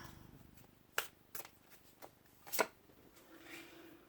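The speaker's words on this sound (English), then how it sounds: "All right, so pull some cards here." Tarot cards being shuffled and drawn, with scattered soft riffles and a few sharp card snaps at close range, quiet and irregular with no talking.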